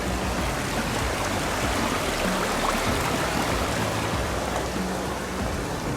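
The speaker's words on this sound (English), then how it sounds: "A little bit of water coming out." Water flowing out of an old hard rock mining tunnel, a steady dense rushing and splashing wash, close and fairly loud, with no pauses.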